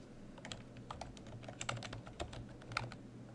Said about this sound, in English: I'll go ahead and begin typing.